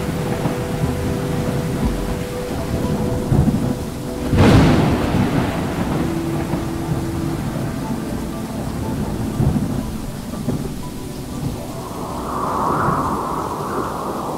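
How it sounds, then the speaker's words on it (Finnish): A summer thunderstorm: steady rain hisses throughout as a sharp thunder crack breaks midway, followed by lower rolling rumbles and fainter distant thunder later on. "Salamat välähtelevät ja pilvissä jytisee."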